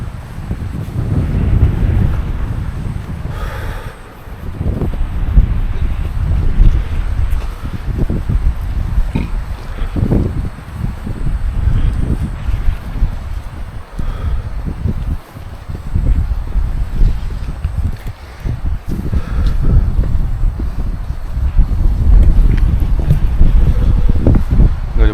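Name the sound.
strong wind on a mountain summit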